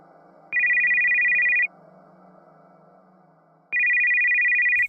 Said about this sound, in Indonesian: terdengar suara HP.